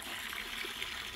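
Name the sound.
water draining out of fish pond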